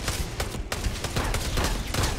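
Rapid bursts of gunfire in the sci-fi video game Starfield, during a fight in abandoned mines on Mars, with dense overlapping shots crackling loudly for about two seconds.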